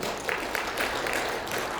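A church congregation applauds during a Sunday worship service, making a soft, continuous wash of many hands clapping together that sounds faint and somewhat distant and carries on without pause.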